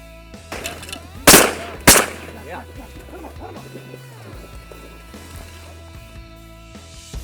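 Two sharp, loud shotgun blasts fired at ducks during an afternoon waterfowl hunt in windy conditions, close together early on, followed by excited hunters' voices and commotion.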